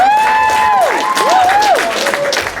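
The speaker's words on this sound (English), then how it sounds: "big round of applause for Green Planet" An audience applauds and cheers for Green Planet at a speech event, loud clapping under rising and falling whoops and shouts.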